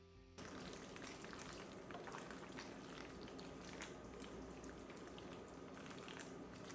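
A pasta and cheese mixture for old-school soul food baked mac and cheese is stirred, giving a quiet, continuous wet squelching and bubbling texture with small clicks, close and faint, with no voices.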